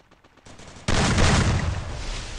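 Rapid gunfire in the mobile battle royale game Garena Free Fire, a few faint shots followed by a sudden loud sustained burst of automatic fire.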